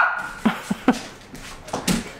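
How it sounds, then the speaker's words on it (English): A terrier gives several short, sharp barks and yips in an uneven run, close by and fairly quiet, with brief gaps of near silence between them. "if she doesn't get her way, she barks."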